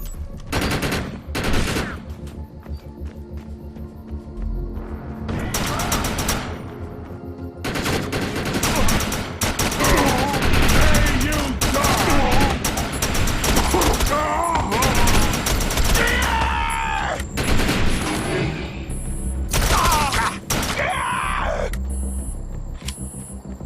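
Gunfire in the video game Defiance: repeated loud bursts of automatic and rapid shots in clustered volleys across a battle, with short lulls between bursts and a tonal background underneath.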